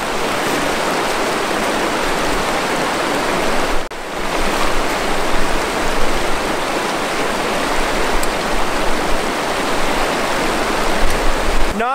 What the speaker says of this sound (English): This is really cold, really fast moving water.